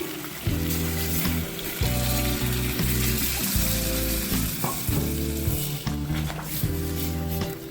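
Hot water poured into a sizzling rohu fish curry in a pan, loud steady frying hiss and bubbling with stirring and pot clatter, over a sustained musical tone in the background.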